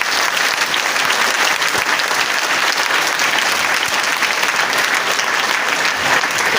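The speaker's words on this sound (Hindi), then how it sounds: "एक बार अपने लिए जोरदार ताली बजा लीजिए" Loud, sustained audience applause at a motivational direct-selling seminar, dense, even clapping from a large crowd lasting the whole stretch without letting up.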